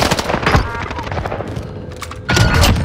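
Loud bursts of automatic gunfire in Warzone on Rebirth Island rattle in rapid clusters, pausing briefly before another heavy volley, with in-game voice callouts mixed underneath.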